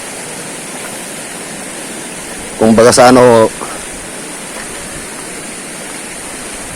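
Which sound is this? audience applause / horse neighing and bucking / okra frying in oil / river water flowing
river water flowing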